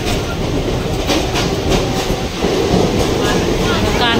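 Steady, loud rumble and rhythmic clatter of a train running on rails, heard from inside a carriage, continuous throughout with faint voices in the background.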